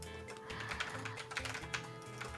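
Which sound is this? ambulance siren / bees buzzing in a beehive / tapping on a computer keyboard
tapping on a computer keyboard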